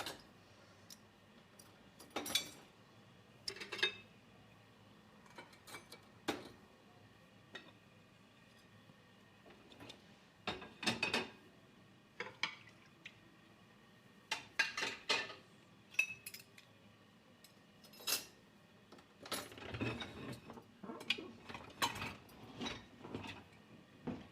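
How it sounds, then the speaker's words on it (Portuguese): Dirty dishes and cutlery clink and clatter in scattered sharp bursts as they are loaded into a dishwasher in a home kitchen, close and fairly quiet with pauses between handfuls. "Só vou colocar mais louça suja na máquina para poder lavar a canjica."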